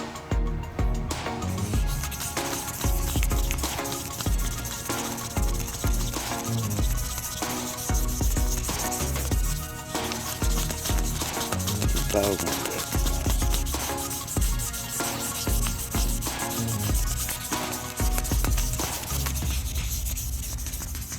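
2000 grit sandpaper rubs an aluminum Honda Civic wheel in steady back-and-forth strokes. The abrasive scrubbing is close, continuous and fairly loud, with no voices.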